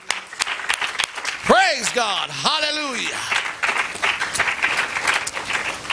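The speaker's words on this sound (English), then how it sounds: "Let's clap on the Lord one more time." A church congregation claps together after a prayer, a steady dense patter of applause running throughout, with a voice calling out praise in the middle.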